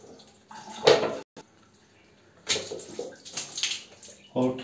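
Clean water poured and splashed into a yellowed, stained porcelain toilet bowl during hand rinsing without a hose, coming in a few separate bursts of sloshing and splashing with brief quiet gaps between them.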